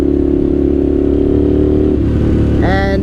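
A 1998 Suzuki TL1000R motorcycle engine running loud and close during a ride, a steady throbbing drone that drops off near the end before a brief rising rev.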